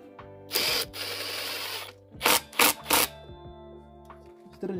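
Ratcheting clicks and short mechanical bursts as a screw is put back and tightened by hand on a 43cc brush cutter engine, close-up, with a steady tonal hum underneath.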